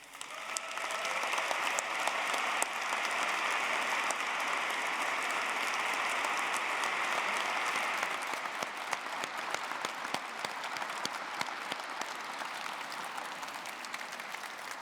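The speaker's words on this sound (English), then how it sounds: "give yourselves a massive round of applause" Graduates at a university graduation ceremony applaud themselves in a large hall, a thick, even wash of clapping that softens and thins after the midpoint, with no talk over it.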